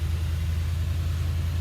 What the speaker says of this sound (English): Oh, I just started the engine.